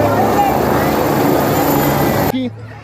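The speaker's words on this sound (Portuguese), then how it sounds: "Olha o helicóptero ali, pessoal." Helicopter arriving to land at a Sunday Christmas park festival in Parque Guaraciaba, Santo André, a loud steady rotor and engine drone close by that cuts off abruptly near the end, with crowd noise around.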